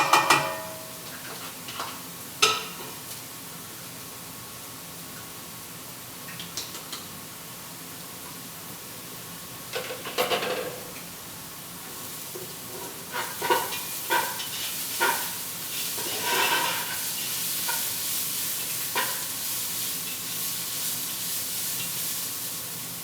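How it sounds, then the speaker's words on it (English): Garlic and onions sizzling together in a pan, a quiet steady fry broken by occasional louder bursts of stirring and scraping. "So we're going to add this to our onions and we're going to cook for about 1 minute."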